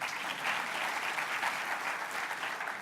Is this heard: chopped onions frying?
no